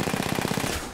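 Rapid automatic gunfire in an online shooter video game, a dense stream of loud, evenly spaced shots rattling continuously for under a second with no voice over it.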